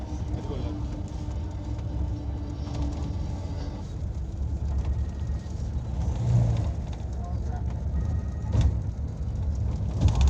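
An auto rickshaw rides along the road toward the Lakshmi Narasimha Swamy temple at Yadagirigutta, its steady engine drone and road rumble continuous and close from inside the cabin, with a few bumps and rattles.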